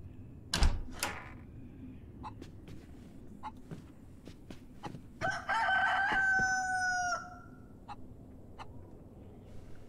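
A rooster crows in a survival video game, a clear harmonic call lasting about two seconds over quiet game ambience, preceded by a loud thud and scattered clicks and knocks.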